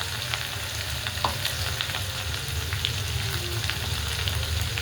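Garlic and coriander sizzling in hot oil with cumin and mustard seeds, a dense continuous hiss up close, with scattered small pops and crackles over a low rumble.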